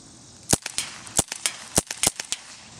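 A toy gun fires a rapid, irregular burst of about ten sharp, loud cracks over a few seconds, emptying its whole load with no talking.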